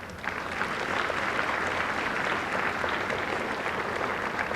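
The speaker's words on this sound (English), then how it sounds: "So if you could give all those people a round of applause." A high school senior assembly breaks into a sustained round of applause for the people who helped the graduates, a thick, close wash of many hands clapping that holds steady throughout.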